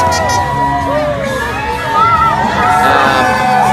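A large outdoor crowd at a Trump rally cheers and shouts in a continuous loud roar, with scattered whoops and voices rising over the din.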